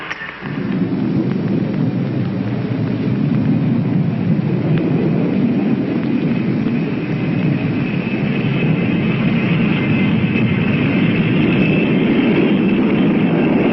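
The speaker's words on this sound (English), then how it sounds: "Throttles forward and I am for flight." Allegheny Airlines airliner engines throttle up for takeoff, a loud, steady roar with broadband rumble and a high whine holding constant throughout, no voices.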